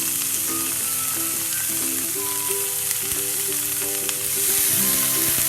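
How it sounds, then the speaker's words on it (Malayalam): Marinated fish pieces roast in masala in a pan, giving a loud, continuous close-up sizzle with a faint tonal hum running under it. The sizzle grows a little stronger near the end and no one speaks. "അതിന് പകരം ഈ കുറച്ച് നേരം ഈ മസാലയിൽ ഇട്ടൊന്ന് ചെറുതായിട്ടൊന്ന് റോസ്റ്റ് ചെയ്തെടുക്കുന്നതേ ഉള്ളൂ."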